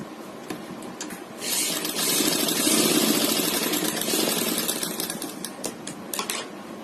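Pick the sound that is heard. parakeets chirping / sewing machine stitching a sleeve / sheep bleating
sewing machine stitching a sleeve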